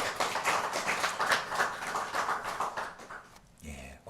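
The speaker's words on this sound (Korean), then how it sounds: "우리 축하의 박수 한번 하시겠습니다" A congregation claps together during a Sunday morning service at a Korean Holiness church, a dense burst of applause that fades out near the end before a short different sound.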